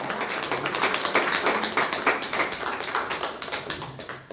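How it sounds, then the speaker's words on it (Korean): Congregation applauding during a Sunday church service, a steady wash of many hands clapping at moderate distance, continuous and fairly even for several seconds with no voices over it. "박수로 격려해 주시기 바랍니다."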